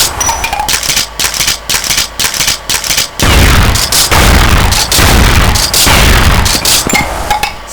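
An M3 Leone 12 Gauge Super shotgun firing in a video game, a string of rapid, loud close-range blasts that merge into a sustained roar of gunfire and booms with no pause.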